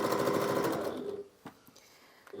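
A Janome HD9 sewing machine stitches through four layers of fabric, a close rapid mechanical whirr for just over a second, then stopping, followed by a few faint clicks.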